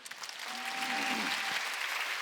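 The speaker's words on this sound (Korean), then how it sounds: "하나님께 세게 박수." Church congregation clapping at a Sunday worship service, sustained dense applause filling the room for a couple of seconds, steady and fairly loud.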